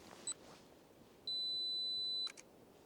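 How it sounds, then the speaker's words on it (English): A camera's two-second self-timer sounds during a landscape shoot: a brief high beep, then a long steady electronic tone that ends in a couple of quick pips as the shutter fires, clear against quiet outdoor background noise. "I'm going to put on the 2-second self timer."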